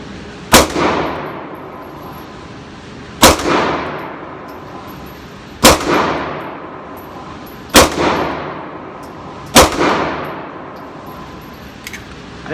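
Five 9mm pistol shots from a Dan Wesson Valkyrie Commander during ammunition testing at a target range, each a loud sharp crack with a ringing tail, spaced roughly two to three seconds apart.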